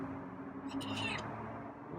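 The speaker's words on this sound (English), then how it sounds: "Okay, there's a meow." A short feral cat meow in the middle, rising briefly above a low background hum and soft movement, with a voice speaking nearby.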